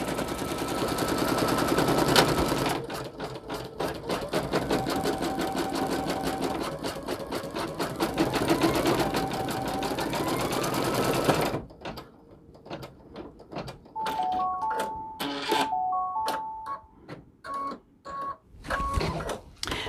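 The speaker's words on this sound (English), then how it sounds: "don't ever put your fingers up under here where the needle is stitching" An embroidery sewing machine stitching a design onto a T-shirt runs with a steady, rapid mechanical chatter, loud and close, then shifts to a choppier, uneven stitching rhythm with brief tonal whirs in the second half.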